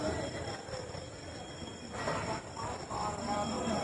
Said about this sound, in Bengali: মালদা টাউন রেলওয়ে স্টেশন এটা চার নম্বর প্ল্যাটফর্ম এখানে শতাব্দী ঢুকবে